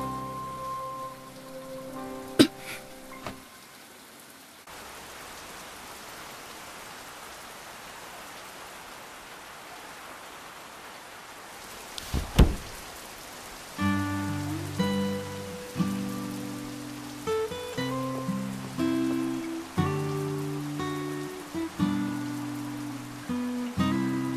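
Steady rain falls as a soft, even hiss for most of the stretch, with a few sharper drip impacts, before music rises over it in the later part.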